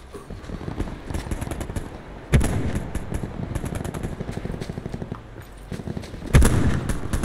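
Gunfire in the Call of Duty Blackout video game: rapid bursts of automatic shots crackle at moderate loudness, with a couple of heavier, closer volleys standing out.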